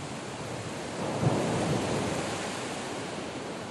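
Ocean surf rolls steadily onto the beach at Witch's Rock, Peña Bruja, a continuous broad roar of breaking waves that swells slightly midway and stays constant, with no voices.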